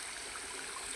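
A river on the way to Balon flowing with a steady, even rush of water, constant and moderately distant, no speech.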